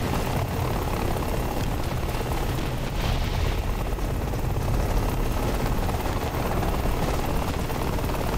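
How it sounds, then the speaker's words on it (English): A drone in a video game rushes toward the players, a loud, dense whirring roar that holds steady and unbroken throughout, with no speech. "Drone coming full speed at us."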